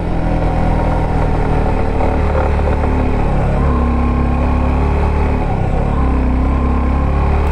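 A Yamaha FZ motorcycle climbs a steep hill road toward the Keokradong summit, its engine droning loud and steady under heavy load the whole time, with the pitch shifting as it labours upward.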